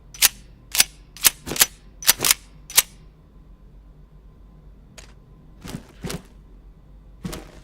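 Gunfire from a full-auto weapon in the video game Into The Radius 2: a quick string of sharp shots, then a pause, then a few more scattered shots, close and loud.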